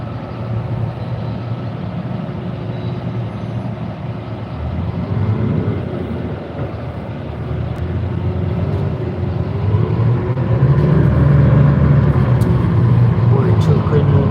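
Interior of San Diego's number 11 city bus under way, a steady engine and road rumble that swells and grows louder toward the end, with people talking over it.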